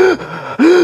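A voice imitates breathing with two sharp, loud gasping inhales separated by a brief pause, close to the mic and with no other sound.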